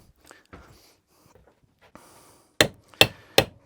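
A small soft-blow hammer taps a new roller bearing into a Lawnflight 553 Pro Kaaz lawnmower roller, with light handling noises first, then three sharp, evenly spaced knocks close by.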